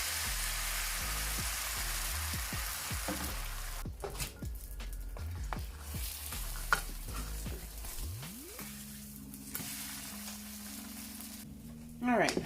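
Food fries in a pan during breakfast cooking, a soft, continuous sizzle with occasional clinks and shifting, and other faint background sounds mixed in.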